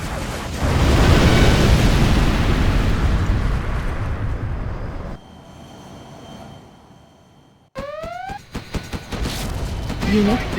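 A nuclear missile strike in the real-time strategy game Command & Conquer Generals Zero Hour, heard as a loud, sustained rumbling blast for about five seconds that fades into quieter battle noise and game effects.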